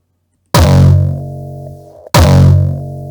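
Two heavy distorted hardstyle kick drum hits, each a loud punchy thump with a buzzing, saturated tail, spaced about a second and a half apart.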